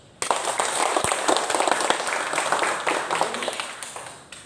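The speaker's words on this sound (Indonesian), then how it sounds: "tepuk tangan dulu" Audience at a school introduction to traditional Nias music, junior high SMP 3 Mohaga Hili, breaking into dense, sustained clapping that starts abruptly and continues steadily, fairly loud and close, without other sounds standing out.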